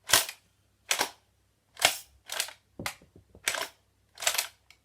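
UDL Super 90 XM1014 shell-ejecting toy shotgun firing about seven sharp, loud snapping shots at irregular intervals, close by, with faint mechanical rattles between some shots and no talking.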